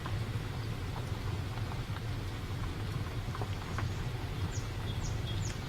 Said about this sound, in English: It's tough to open the windows now because it's raining.